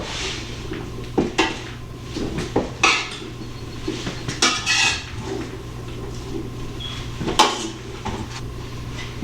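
Homemade gravy being mixed in a pan in a farm kitchen, with scattered metallic scrapes and clinks of a utensil against the pan over a low steady hum, a few sharper knocks standing out.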